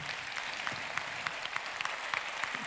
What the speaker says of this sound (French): j'aimerais bien qu'on les applaudisse très très fort